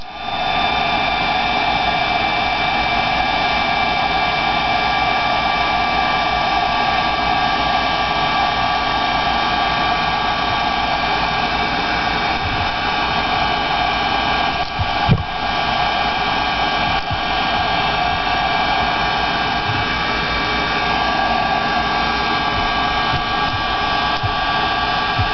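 Steady, loud whoosh of a hair dryer drying decoupage medium on a rock paper weight, running continuously with an even airflow hiss and motor hum throughout.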